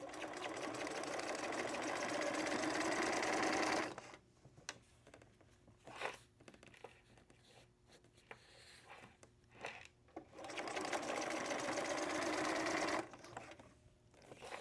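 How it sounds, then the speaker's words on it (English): A sewing machine stitching fabric runs in a loud steady burst, pauses for several seconds of quiet handling with small clicks, then starts stitching again near the end. "It's really weird to be sewing opposite like this."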